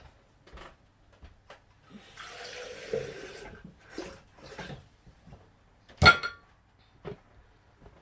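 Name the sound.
water running from tap into container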